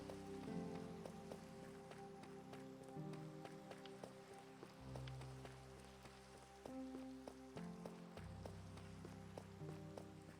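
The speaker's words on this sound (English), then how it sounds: "Probably helps it's raining" Steady rainfall in the Minecraft video game patters softly and continuously, layered under shifting game sounds and low tones, faint and evenly spread throughout.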